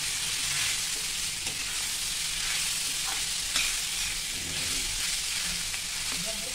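Boiled potatoes are stir-fried with turmeric in a hot pan, giving a constant close sizzle with faint stirring scrapes throughout.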